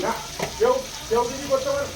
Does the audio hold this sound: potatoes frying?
yes